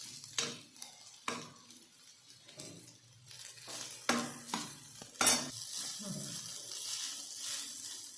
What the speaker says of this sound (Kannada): ಈಗ ಇಬ್ಬರಿಗಾಗುವಷ್ಟು ನಾನು ಅನ್ನ ತೊಗೊಂಡೇನ್ರಿ, ಅದನ್ನು ಇದ್ರ ಜೊತೆ ಮಿಕ್ಸ್ ಮಾಡ್ಕೊತೀನಿ